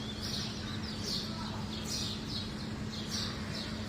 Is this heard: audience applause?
no